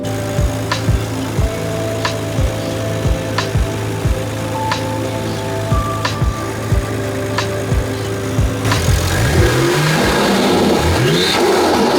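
A Nissan Skyline GT-R engine fitted with an HKS airflow-less adapter idles with a steady low rumble, punctuated by a dozen evenly spaced short revs, then a rougher, louder rise toward the end.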